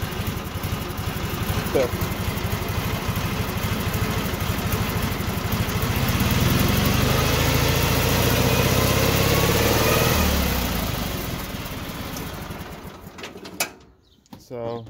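A racing lawn mower with a stock pulley revs up through its gears, the engine note loud and steady, then fading out near the end, while someone talks over it.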